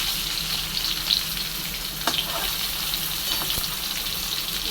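Bitter gourd pieces frying in a pan with a steady, close sizzle throughout, a few brief stir clicks and scrapes breaking through the hiss.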